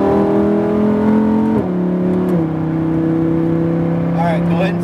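Loud, close engine note of a Lamborghini Huracan LP accelerating on the Speed Vegas race track, a steady high-revving drone that shifts pitch once or twice as it pulls hard, with a brief higher whine near the end.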